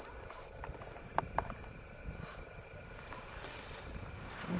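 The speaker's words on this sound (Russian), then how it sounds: "Сверчки завели свою песню." Crickets chirp in a fast, steady rhythm in the open countryside at summer's end, a close continuous trill over faint rustling and background noise.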